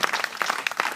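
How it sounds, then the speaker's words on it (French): Short burst of clapping from a small gathering applauding a child, brisk and fairly close. "Donc on peut l'applaudir."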